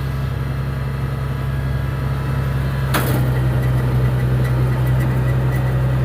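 A tractor's PTO drives a manure spreader: a loud, steady low engine hum runs throughout, with a sharp clunk about halfway as the drive engages, then the idle carries on slightly heavier, with no talking.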